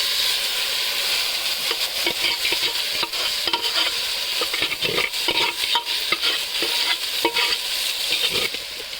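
Ginger garlic paste fries in a pan with a loud, dense sizzle, broken by frequent scraping stirs that grow busier toward the end, heard up close with no speech.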